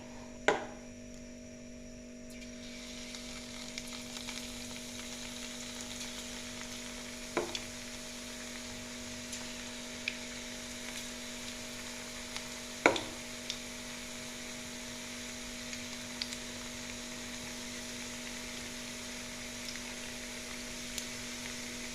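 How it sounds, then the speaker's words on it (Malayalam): Laddu dough fries in hot oil with a soft, continuous sizzle, a low steady hum beneath, and a few sharp clinks of a utensil against the pan. "ഇതേപോലെ ബാക്കിയുള്ള മാവും നമുക്ക് പൊരിച്ചെടുക്കാം"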